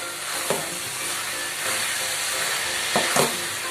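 Coconut laddu mixture with cardamom stirred and frying in a pan gives a steady sizzling hiss, with a few louder spoon scrapes near the start and toward the end.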